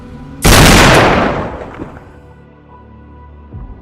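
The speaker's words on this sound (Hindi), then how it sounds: "वंची पिस्तौल सीने पर तानी, गोली चलती है।" A single loud pistol gunshot cracks out, followed by a long, booming echo that slowly fades away.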